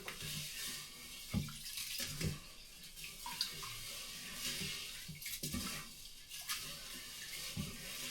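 Tap water runs faintly while rice is washed for a rice cooker, a soft steady splash with intermittent clinks and swishes of grains and pot, quiet and close.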